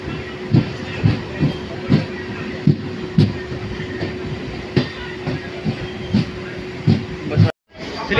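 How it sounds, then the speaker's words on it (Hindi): A train pulls through Bachhwara station in Bihar, with rhythmic wheel clacks over rail joints and a steady low rumble and hum, while voices talk over the scene. "ट्रेन आ चुकी है और अभी ये ट्रेन निकलने भी वाली है।"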